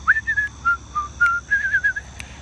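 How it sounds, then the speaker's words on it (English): A person whistles a light, wandering tune of short and held notes, clear and close, over a quiet low hum. "If it helps, whistle when you walk around."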